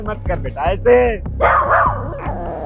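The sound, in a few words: dogs barking and growling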